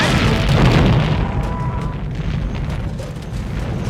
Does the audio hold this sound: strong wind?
no